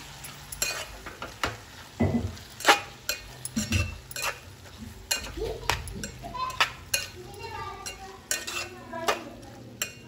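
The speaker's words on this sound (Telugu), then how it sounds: "టమాటా వేసుకొని కలుపుకోవాలండి" Spoon scraping and stirring tomato and cucumber curry in a pan, a string of irregular clinks and scrapes over a soft sizzle, close and fairly loud.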